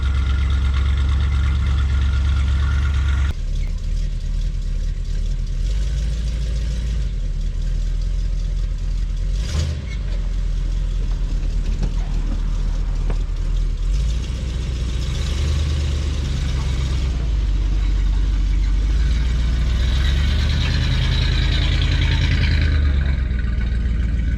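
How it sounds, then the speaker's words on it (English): An RV motorhome engine with a freshly repaired exhaust idles steadily and close, a continuous low rumble that holds without break for the whole stretch. "now the exhaust is all coming out back here where it's supposed to and not up there"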